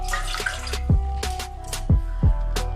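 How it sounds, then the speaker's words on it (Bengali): About two cups of water pour into a pot on a gas stove to start sugar syrup, a close, sloshing stream with a few gurgling splashes. "এবার চিনির শিরা বানানোর জন্য আমি গ্যাসেতে একটা ডেচকিতে আমি 2 কাপ পরিমাণ জল দিয়ে দিলাম"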